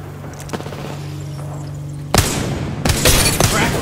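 Bursts of gunfire in the battle royale game Apex Legends, a sparse shot or two followed by loud, dense volleys of rapid fire crowding the latter half.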